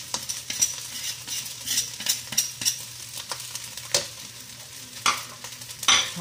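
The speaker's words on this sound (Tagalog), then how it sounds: "Hahaluin lang natin sila sabay-sabay." Shrimp and squid being stirred together in a frying pan over a steady sizzle, with repeated sharp scrapes and clinks of a utensil against the pan at an uneven rhythm, and no voices.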